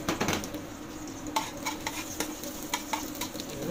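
Garlic is added to hot oil in a pan for chop suey, giving a steady close sizzle broken by stirring scrapes and light clinks of utensil on pan, with no voices.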